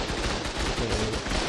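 Rapid automatic gunfire during a raid in the video game Ark Survival Ascended, a dense burst of closely spaced shots rattling continuously for a second and a half.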